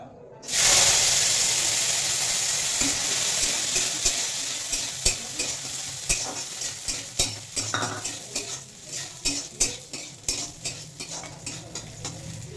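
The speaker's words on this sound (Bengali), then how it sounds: "এবার ড্রাই ফ্রুট আমি ভেজে নেবো" Dry fruits fry in a spoonful of ghee in a kadai, a loud hissing sizzle that starts abruptly and settles into a steady fry, overlaid by repeated scraping clicks of a spoon stirring in an uneven rhythm.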